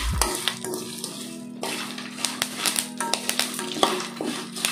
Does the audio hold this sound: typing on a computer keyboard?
no